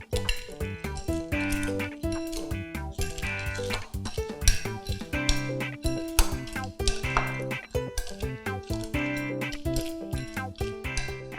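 Ingredients for a crispy Thai instant-noodle yum salad, with crispy fish and peanuts, are tossed together in a bowl, giving repeated light clinks and scrapes under steady background music.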